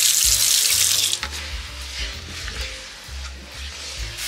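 Hot water runs from a tap into a sink for cleaning with Pine Sol, a loud steady hiss that briefly cuts off and continues more softly, with faint clattering underneath.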